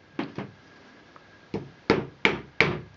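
Sharp hammer taps drive an extra plastic peg into a knitting loom: two quick knocks, a pause, then four firmer evenly spaced strikes, close and alone.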